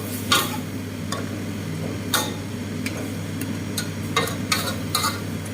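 Catfish in red curry paste sizzles softly in a pan as it is stir-fried before water is added, with scattered light ticks and scrapes of a utensil over a steady low hum.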